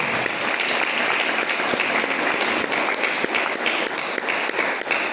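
A church congregation applauds in a sustained, dense round of clapping that stays loud and steady for several seconds, with a few sharper claps near the listener and faint crowd murmur beneath.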